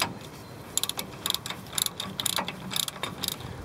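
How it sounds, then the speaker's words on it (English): A hand ratchet clicks in quick bursts while loosening the bolts on a car's front brake caliper, the dry ticking strokes coming in several short, close-up runs with brief pauses between them. "After you break the bolts, you could just use a regular ratchet."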